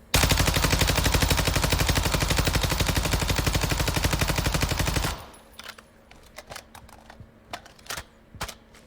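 Warzone 2.0 weapon in a recoil test, firing one long unbroken automatic burst of rapid, loud, evenly spaced shots for about five seconds, then stopping, leaving sparse scattered clicks and taps.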